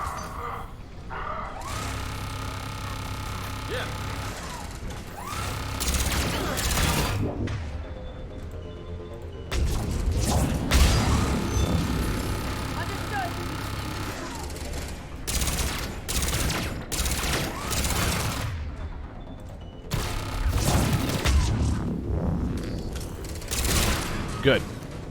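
Sustained bursts of automatic gunfire and heavy booms ring out while shooting enemies and turrets in a sci-fi shooter, long rattling volleys separated by short pauses, loud and close, with a player's voice talking between them.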